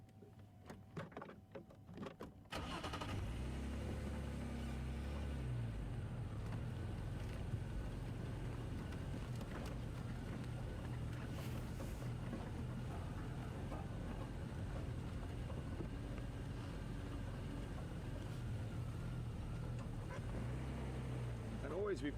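After a brief quieter moment, a safari vehicle's engine idles in low range at low revs, a steady low rumble, deep and even, with faint noise over it.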